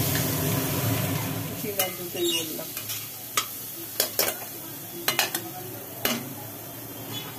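Banana stem stir-frying in a pan for a Bengali home meal gives a low, steady sizzle broken by sharp scrapes and clinks of a spatula, with a few faint voices nearby.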